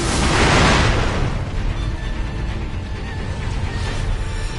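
A firecracker bursts in Sekiro, a loud boom at the start that decays into a dense, rumbling wash of game noise lasting several seconds, with no voices over it.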